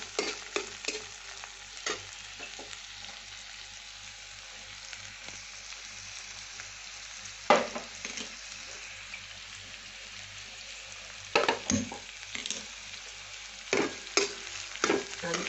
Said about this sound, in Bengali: নুন দিয়ে আমি এটা একটু ভাজা করে নিই সামান্য, খুব একটা না, গ্লসি হবে।